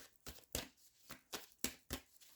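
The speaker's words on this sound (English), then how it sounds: "I'm just shuffling the cards." Tarot cards are shuffled in about six quick, soft riffling bursts at a steady rhythm, close up and quiet, with no talking.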